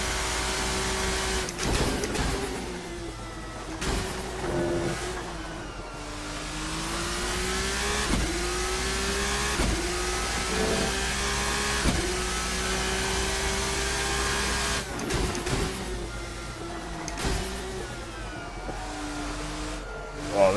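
A race car engine howls around the Paul Ricard circuit in the Assetto Corsa driving game, loud and steady with repeated rises and falls in pitch as it accelerates, shifts and brakes through corners, with no talk.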